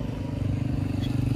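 A touring motorcycle on a snowy mountain pass at Babusar Top gives a steady low engine rumble, loud and close, holding an even drone throughout.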